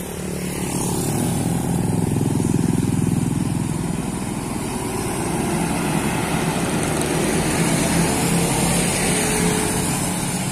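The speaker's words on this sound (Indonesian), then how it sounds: "Melintas kembali bus D Blindo." A heavy tour bus engine in Ciamis, Indonesia, drones loudly and continuously nearby, its low rumble rising and easing slightly as it rolls past amid road noise.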